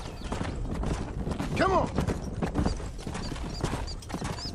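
Horse hooves pound in a fast, steady gallop in the Red Dead Redemption video game, mixed with a whinny and a loud outdoor rumble while someone shouts over them.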